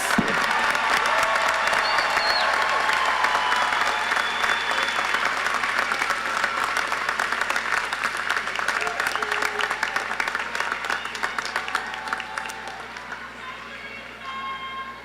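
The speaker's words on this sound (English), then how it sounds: "one more round of applause for all of these wonderful graduates" An audience at a community college commencement ceremony applauds the graduates, a long, loud wash of many hands that starts full and slowly thins and fades toward the end, with a little cheering mixed in.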